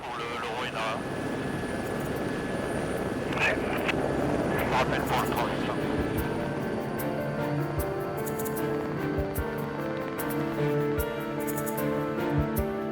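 A helicopter flies overhead with a steady rotor and engine drone that holds throughout, loud and near.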